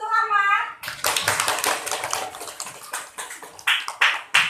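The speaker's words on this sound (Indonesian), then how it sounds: "Kita kasih aplaus untuk Ahmad." Classroom applause from schoolchildren for a classmate, a burst of quick, fairly close hand claps following a short sung or spoken phrase, with some voices mixed in.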